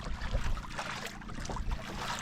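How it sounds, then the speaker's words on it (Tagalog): Wind gusts over open sea aboard a small boat, with water sloshing against the hull beneath a continuous, moderately faint rushing. "Hangin, pero hindi ganong malakas yung ano."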